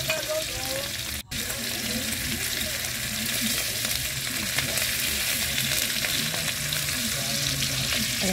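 Dried fish (tuyo) fries in hot oil in a pan with a steady, dense sizzle and crackle, loud and close, lasting the whole stretch with no break except one brief drop.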